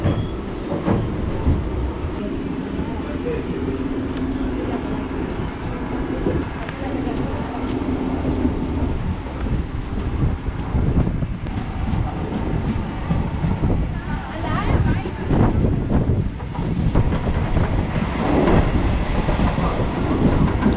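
Passenger train running between Chengalpattu and Arakkonam, a steady loud rumble of wheels on rails with squealing and clattering carriages throughout, plus faint voices inside the coach.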